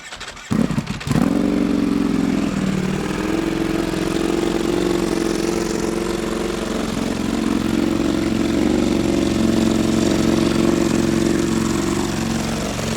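A Ducati Panigale V4 Tricolore Italia engine in race mode cranks briefly, catches and settles into a steady, close, rumbling idle that continues without pause.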